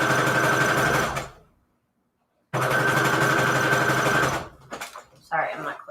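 A sewing machine stitches scrap fabric in two loud, steady bursts of rapid mechanical chatter, split by a short silent pause, with brief handling noises after the second run.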